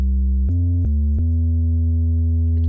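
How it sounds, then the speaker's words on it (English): Simple synth bass preset named B bass playing a short one-bar loop of a few deep, smooth, nearly pure low notes with little overtone, each note starting with a soft click. "I used a simpler preset called B bass"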